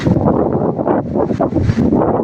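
Strong wind gusts just before rain in a temple yard at Wat Pong Chai, Chae Hom, Lampang, a loud rushing roar that swells and dips with buffeting against the microphone.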